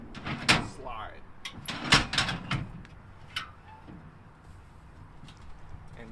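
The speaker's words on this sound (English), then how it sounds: "The first step slides out, the second one rolls, and the third flips." Entry steps on a 2019 Sportsmen SE 230 BHSE travel trailer being pulled out, with a series of sharp metallic clanks and clunks as the sections slide, roll and flip into place, close by, followed by quieter rattles.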